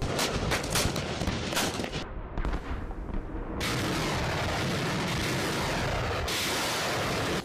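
Heavy bombardment during an Iranian military exercise: dense, continuous booming and rumbling blasts that overlap into a roaring wall of sound, with a brief lull before the barrage resumes loud and unbroken.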